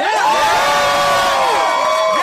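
A large crowd cheers and whoops loudly and without a break, with voices rising and falling over about two seconds.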